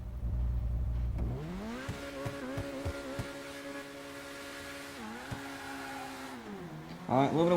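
A sports car in GTA 5 launches hard with brief wheel spin, its engine rising in pitch through quick gear shifts and climbing again, loud and close, while someone talks over it.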